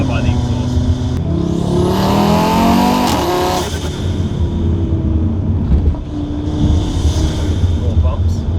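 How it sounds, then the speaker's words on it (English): A car engine revs and accelerates through an upgraded downpipe and loud exhaust, a rising whine sweeping up before easing off, with a turbo flutter between pulls and a voice talking over it. "Fluttering so loud you can still hear it even over the exhaust at times"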